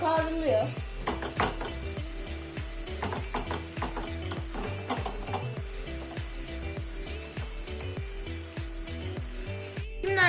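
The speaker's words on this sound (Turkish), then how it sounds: "Arkadaşlar biberlerimi de atıyorum." Peppers fry in a hot pan with a loud, continuous crackling sizzle, punctuated by rhythmic scraping and stirring knocks of a utensil against the pan, no talking heard.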